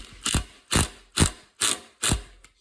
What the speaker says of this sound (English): Then we'll use our impact driver,